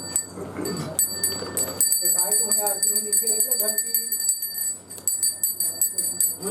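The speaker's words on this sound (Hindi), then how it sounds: "बाएं हाथे दो बार घंटी बजाइए" Small ritual hand bell rung during a Hindu aarti at a Bhagwat Katha gathering, its bright ringing tones sustained through the clip under a man's speech and a noisy hall.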